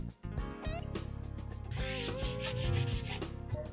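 A cleaner is rubbed across a snowboard's top sheet in steady, continuous rubbing strokes that grow slightly stronger over a few seconds, with tonal music running underneath.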